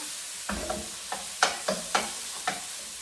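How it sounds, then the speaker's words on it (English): Pork stir-fries in a pan for a potato, bell pepper and tomato dish, with a soft sizzle under about seven sharp scraping clicks of a utensil against the pan at irregular intervals. "Let me stir the pork a little bit to make it cooked well."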